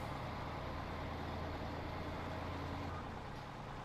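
A truck drives in the Farming Simulator 15 video game on the Pleasant Valley Rivers map, its engine a steady, dense low rumble that continues without a break and without talk.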